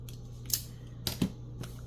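Scissors trimming paper ephemera: three or four crisp, quiet snips spaced about half a second apart over a faint steady hum, close by, no talking.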